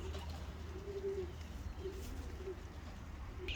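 Young racing homer pigeons coo softly in a loft, a few low, throaty rolling calls over quiet background hum, fairly faint and close by.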